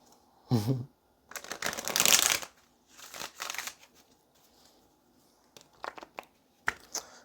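Tarot cards being shuffled by hand in bursts of riffling and flicking, close and fairly loud, with pauses and a few sharp snaps toward the end.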